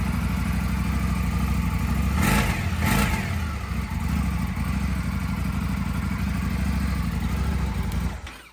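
A 2025 Indian Super Scout motorcycle idles nearby with a steady, low, rumbling engine note, briefly rising twice in the middle, then cutting off near the end.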